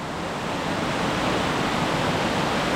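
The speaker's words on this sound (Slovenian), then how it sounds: "To je pa v bistvu najmogočnejši ponor na Moravskem krasu v tole podzemlje, podzemski jamski sistem." A stream pours into a sinkhole cave in the Moravian Karst, a loud, unbroken roaring rush of water that holds steady throughout, heard close with no voices.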